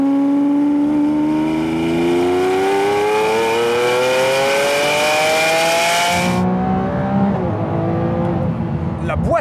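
Lamborghini Aventador SV accelerating hard, its engine note climbing steadily through the revs in one long loud pull before an abrupt cut, then rumbling on more quietly.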